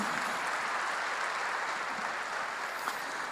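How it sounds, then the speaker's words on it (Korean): A church congregation claps as the pastor is welcomed to the pulpit, a soft, steady roomful of applause heard from a distance with no speech over it. "하나님께 박수세요."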